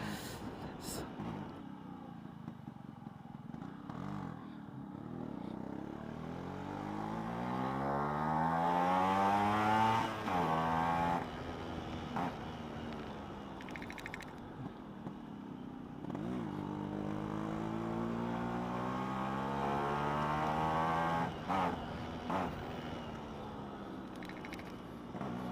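Yamaha RX135 two-stroke motorcycle engine while riding, rising and falling revs through gear changes with a buzzing, sweeping pitch, fairly close throughout.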